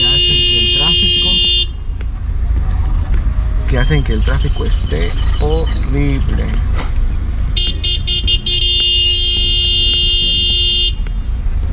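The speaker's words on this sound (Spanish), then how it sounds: "estoy aquí atorado en el tráfico" Stuck traffic at a road construction zone, with long blaring car horns at the start and end around a steady engine rumble, while someone talks close by in the middle.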